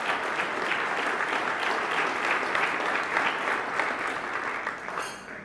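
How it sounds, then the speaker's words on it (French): Guests at an evening hall-of-fame induction ceremony applaud the bronze-level sponsors, a steady crowd clapping of moderate loudness that runs several seconds and gradually thins out toward the close. "une bonne main d'applaudissements pour nos partenaires de la catégorie bronze."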